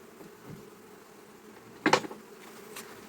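A steady, soft hum of buzzing bees at an opened hive fills the background, with a louder brief buzz or bump close by partway through.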